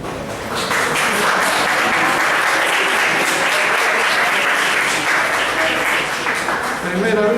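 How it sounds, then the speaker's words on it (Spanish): A lecture-hall audience breaks into loud, sustained applause for a dental caries lecturer, rising quickly and holding a thick, even roar of clapping before tapering as a voice begins to speak. "Primera vez que me aplauden."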